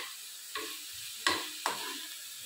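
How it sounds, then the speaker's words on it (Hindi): Paneer frying in butter in a pan for a sandwich, a soft steady sizzle broken by a few sharp stirring scrapes, quiet and close with no talk. "अब मैं जल्द से जल्द इसको फ्राई करूँगी बढ़िया सा"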